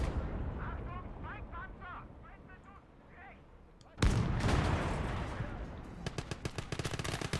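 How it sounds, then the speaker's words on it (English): Artillery guns fire in a video game battle: a hard, loud blast cuts in mid-clip and rolls into a booming rumble, followed by a rapid string of sharp repeated reports, with warbling game sounds and chatter before the shot. "I'm gonna fully invest in these artillery guns."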